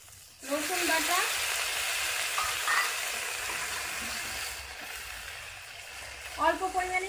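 Fried pointed gourd sizzles in hot oil as garlic paste goes in, a loud steady hiss. A voice speaks briefly at the start and again near the end.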